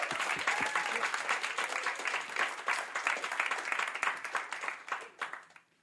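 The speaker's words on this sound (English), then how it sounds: "I'd just like to have a final round of applause for everyone who put themselves forward" A crowd gives a final sustained round of applause for student union winter election candidates, steady dense clapping filling the room before tapering off at the end.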